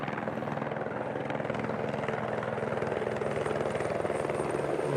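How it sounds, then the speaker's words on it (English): A US Customs helicopter passes overhead at the US–Mexico border in Arizona, its dense rotor chop and engine roar loud and steady throughout with no pause. "helicopter."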